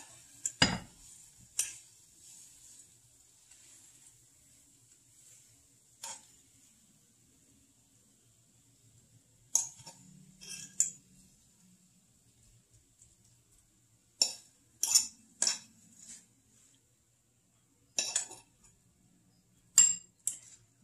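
Intermittent clinks and scrapes of utensils against dishes as keto scrambled eggs are plated up beside sausage, spaced out and fairly close in a quiet kitchen.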